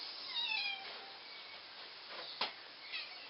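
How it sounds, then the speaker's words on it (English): A cat meows several times in a short run of near, plaintive calls, with a softer final mew, outdoors in a garden in June. "Stupid cat. You're mad?"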